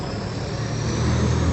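A car passes close by on a street in Merida, Yucatan, its steady engine and tyre rumble rising slightly toward the end, with no talk over it.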